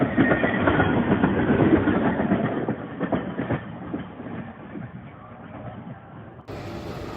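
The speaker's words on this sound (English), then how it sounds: "a tank wagon rolled for several kilometers without a locomotive pulling it" A runaway tank wagon rolls along the rails without a locomotive, giving a steady close rumble of wheels on track with rhythmic clicks, ending in a brief burst of brighter noise.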